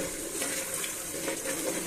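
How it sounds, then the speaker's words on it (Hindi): Water pours steadily and splashes into frying masala for a mango curry, a continuous close rushing sound with no talk. "अब हम इसकी भुनाई के बाद इसमें डाल देंगे पानी"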